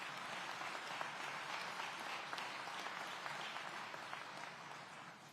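An audience at a city public safety meeting gives steady, continuous applause, a dense wash of clapping that holds evenly and fades slightly at the close.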